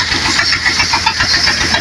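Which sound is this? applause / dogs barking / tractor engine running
tractor engine running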